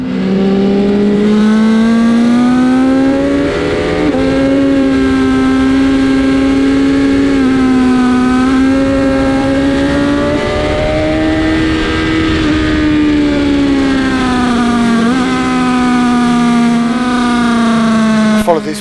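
A BMW S1000RR motorcycle screams along the Brands Hatch circuit on a road bike trackday, its engine note loud and sustained, rising and falling as it shifts and revs close up.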